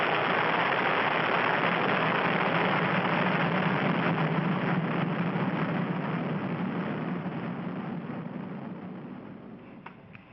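A Delta IV Heavy rocket on its first flight roars just after liftoff: a broad, steady, rumbling thunder that fills the sound and slowly fades as it climbs away.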